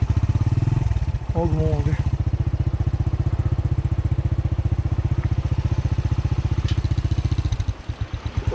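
A motorbike being parked at a mountain spot on the way to Rakaposhi Base Camp idles with a loud, steady, rapid chugging thump, while someone speaks briefly near it.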